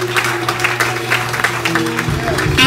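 Church congregation applauding the Lord, a loud burst of rhythmic clapping and cheering carrying through a short moment of worship, layered with voices and a sustained musical tone underneath.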